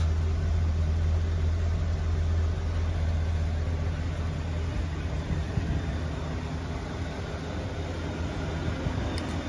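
A 1974 Mercury Marquis Brougham with a big-block engine idles in the evening, giving a steady, loud, low rumble that holds evenly throughout with no talking.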